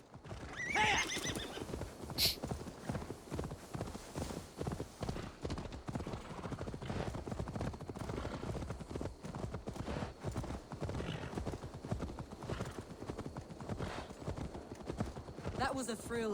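A horse gallops with rapid, continuous hoofbeats and neighs in the video game Assassin's Creed Valhalla, with in-game sounds and brief voices mixed in over the running rhythm.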